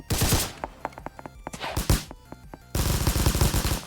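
A gold gun fires in a robot fighting video game: loud bursts of rapid shots in quick clusters, followed by a sustained stream of fire near the end, with no speech over it.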